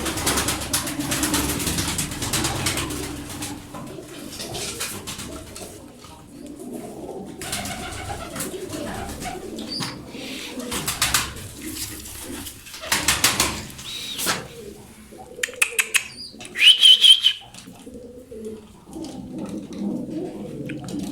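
Pigeons coo softly amid a busy, noisy background with rustling and occasional flapping, the calls low and intermittent rather than steady.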